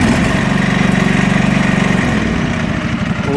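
A Kawasaki FD620D replacement engine idles in a John Deere 445 riding mower, a steady close, loud low throb that shifts slightly lower partway through, with a faint rattle from an exhaust that runs a little noisy.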